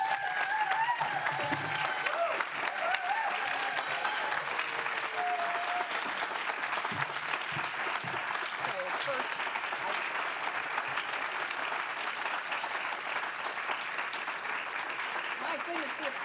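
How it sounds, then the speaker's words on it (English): Sustained, dense applause from an audience at an award ceremony honoring an executive, an even wash of clapping at moderate distance that continues unbroken throughout. "the applause just keeps on coming"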